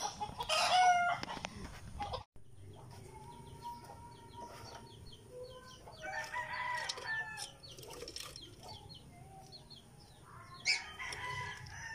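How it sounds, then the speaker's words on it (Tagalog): Chickens cluck and squawk noisily, with a rooster crowing and some wing flapping, mixed with a background of other birds. "Maingay yung mga manok."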